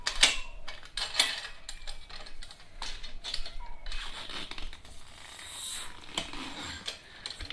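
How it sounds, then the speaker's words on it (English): A motorcycle tyre's bead being broken on a tyre changing machine gives irregular close mechanical clicks, clunks and creaks over a light rustling bed, with no voices. "But this machine I bought here breaks the bead itself quite easily."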